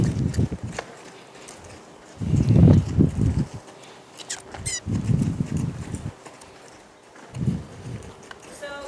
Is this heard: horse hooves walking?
yes